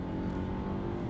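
Nissan X-Trail with a CVT accelerating from about 60 km/h with the pedal floored, a steady droning engine hum that holds level throughout, heard from inside the car with no talk.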